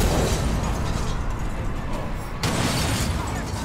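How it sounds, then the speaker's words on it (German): Loud explosion in the Mad Max video game: a dense, sustained roar with bursts and rumble, a fresh loud blast arriving near the end. "Ey, da kommt eine Bombe."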